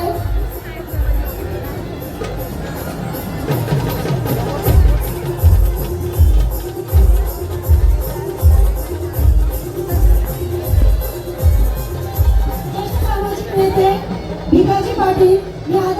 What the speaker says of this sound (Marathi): खूपच गर्दी झाली बघा तुम्ही.